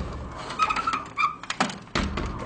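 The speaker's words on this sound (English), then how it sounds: "Shut the door here again." A hotel room door is pushed shut, giving a squeak and several close thuds and a final clunk as it closes, loud and near.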